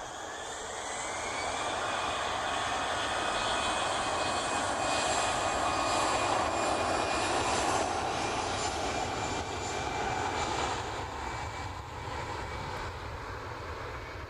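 An EasyJet jet airliner on its takeoff roll at Manchester Airport builds into a strong, sustained engine roar with a rising whine. It holds steady and loud for most of the run, with no one talking.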